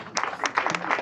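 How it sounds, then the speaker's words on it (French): A short burst of audience applause at a church jubilee celebration, scattered hand claps with a voice briefly over them. "Abbé Alphonse Birom Ndour, on applaudit fort pour lui."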